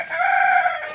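A chicken on a poultry farm gives a short, loud, harmonic crow lasting about a second, close and alone with no talk.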